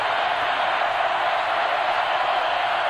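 A stadium crowd rises to its feet at a college football game, Oregon State at LSU in 2004, giving a steady, loud, unbroken roar for several seconds.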